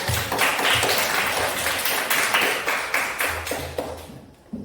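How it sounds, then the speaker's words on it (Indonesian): Classmates in a school lesson clap for a student's answer, a brief ragged round of hand claps with distinct individual slaps, fairly close and steady before tapering off at the end. "tepuk tangan untuk jawaban dari teman Riki"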